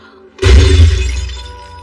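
A fake priceless thousand-year-old egg smashes in an action movie scene, a sudden loud shattering crash with a lingering ringing decay.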